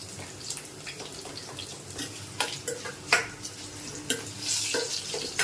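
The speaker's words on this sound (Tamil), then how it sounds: "லைட்டாக அப்படியே கிண்டி விட்டுட்டு கருவேப்பிலையை போட்டுக்கலாம்" A spoon stirs a hot oil tempering with curry leaves in a pan for pepper pongal, giving soft scraping clicks over a faint sizzle, with a few sharper taps and a brief louder burst near the end.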